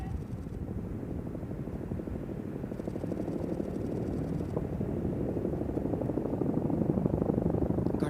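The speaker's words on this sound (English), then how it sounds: "2 heavy lift tandem rotor Chinook helicopters, call sign Hanuman, carrying 2 M777 guns of the Indian Army as underslung load" Two heavy-lift Chinook tandem-rotor helicopters of the Indian Army carry M777 guns as underslung loads during an air force exercise, their rotors beating in a loud, rapid, continuous chop that grows slightly stronger as they approach.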